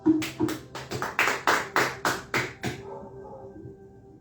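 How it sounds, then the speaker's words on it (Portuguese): Rhythmic clapping in a church service, about a dozen even, separate claps in a steady beat with a faint sustained tone underneath, then stopping and leaving a quiet lingering hum. "Aplauda o Senhor"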